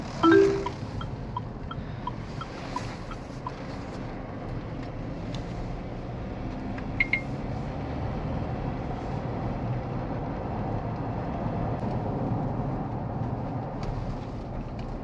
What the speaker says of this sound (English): noise level is relatively low apart from the diesel motor